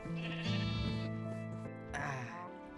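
A sheep in the video game Minecraft gives a few loud, close bleats in quick succession, short wavering calls with a clear nasal tone.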